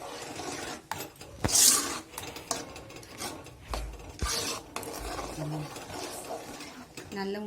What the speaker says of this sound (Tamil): எல்லாத்தையும் சேர்த்து நல்லா கிளறிக்கலாம்.